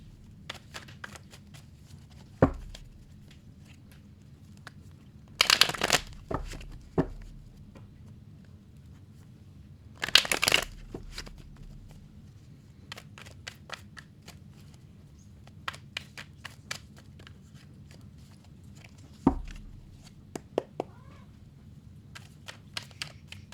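Tarot cards are shuffled in a few short, crisp riffling bursts, with scattered faint taps and rustles between them in an otherwise quiet room.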